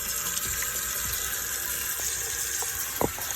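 An item is rinsed under a running tap during spring cleaning, giving a steady, close hiss of flowing water with a few faint clinks near the end.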